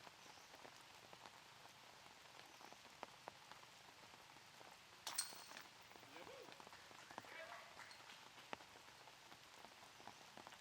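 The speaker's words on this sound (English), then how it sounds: "Doing work out here in the rain" Rain falls outdoors on a disc golf course, a soft, faint, even patter of drops with a brief louder rustle partway through.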